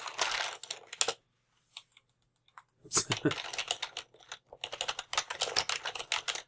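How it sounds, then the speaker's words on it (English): Computer keys clatter in quick bursts of typing in Video Game Critic Simulator, broken by short pauses, with a person talking over part of it. "I'm pressing every single key now and nothing's happening"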